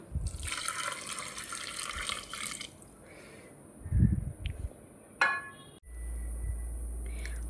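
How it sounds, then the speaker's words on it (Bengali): Hot water poured into a pressure cooker holding mutton, potato and papaya for a village-style mutton curry, a splashing gush for about three seconds, then quieter clinks and handling sounds and a low steady hum near the end. "এবার আমি অ্যাড করব কিছুটা গরম জল।"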